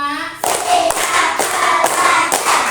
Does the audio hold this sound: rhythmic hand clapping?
yes